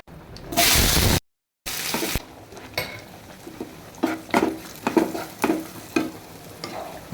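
Drumstick stir-fry (murungakkai poriyal) cooking in a pan with a little water: a burst of loud sizzling, then a run of scraping, clinking stirring strokes at an irregular rhythm, close by with no talk.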